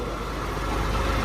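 A dirt bike engine runs loud and close, a steady rough low rumble that holds without a break and builds slightly toward the end.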